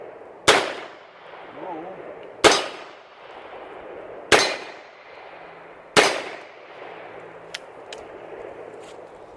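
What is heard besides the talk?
8mm Label 1898 revolver shots ringing on steel cylinder target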